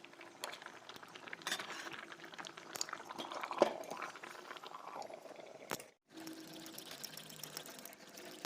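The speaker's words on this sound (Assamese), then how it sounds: "এতিয়াতো ঢাকি ৰাখি পেলাই উতলিব দিম" A covered pot of taro curry simmers with soft, irregular bubbling and faint lid rattles, quiet and close, briefly dropping out for a moment before the boiling resumes.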